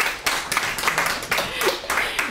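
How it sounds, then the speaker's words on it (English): An audience at a poetry reading claps after a poem, a brief, close burst of scattered hand claps lasting a couple of seconds. "now that you've started clapping after every poem"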